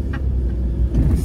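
A car engine revs up while driving, a loud, close, continuous low rumble with a brief surge near the end.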